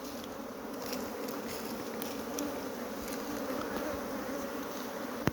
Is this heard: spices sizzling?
no